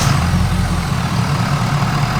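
A vehicle engine idles in a shop with a steady, loud, low-pitched throb and an even mechanical pulse.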